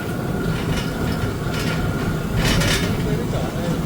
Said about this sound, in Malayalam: ടോയ് ട്രെയിൻ റോഡിനെയൊക്കെ ക്രോസ് ചെയ്താണ് പോകുന്നത്